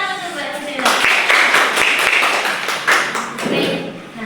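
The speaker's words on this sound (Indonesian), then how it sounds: "Ya, tadi tepuk tangan untuk Mbak Rosela." Classroom applause for a student presenter during a micro-teaching lesson on production equipment maintenance, a burst of clapping from a small group that starts within the first second and continues steadily, with occasional voices mixed in.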